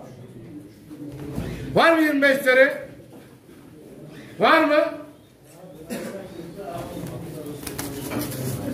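Pigeons coo at a pigeon auction, the soft calls rising briefly amid loud bidding voices and crowd chatter that dominate throughout.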